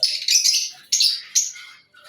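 Pet lovebirds and ringneck parakeets in an aviary setup give a quick run of high, bright chirps, four or five close sharp tweets in uneven bursts, with no voices.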